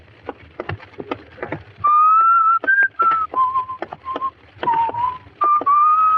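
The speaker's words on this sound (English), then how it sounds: "Stop whistling that." A person whistles a tune with clear sustained and sliding notes, starting after a few soft taps and footsteps, fairly close and loud.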